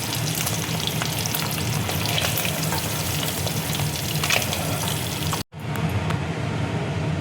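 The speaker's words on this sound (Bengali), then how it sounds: "ডিমটা দেখো ভাজা হয়ে গেছে" Eggs fry in hot oil for an egg curry, a dense steady sizzle with faint crackles running throughout, broken by a brief dropout near the end before the sizzling resumes.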